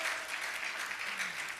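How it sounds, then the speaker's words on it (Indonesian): A church congregation applauds in a steady, rolling burst of clapping that fills the room, moderately loud and sustained throughout. "ayo beri tepuk tangan bagi Tuhan"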